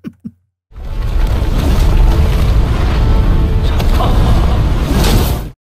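After a couple of brief clicks and silence, a loud, sustained roaring blast of a bronze palace exploding in the animated series Perfect World fills the space for several seconds, then cuts off.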